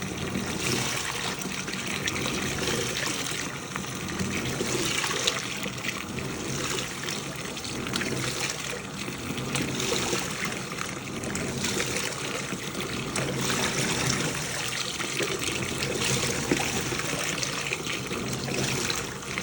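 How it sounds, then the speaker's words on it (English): Water pours steadily into a Panasonic 9.5 kg top-load washing machine during a refill, a continuous broadband rush and trickle that holds even and fairly loud throughout, with no voices. "we've decided to add more water, just randomly"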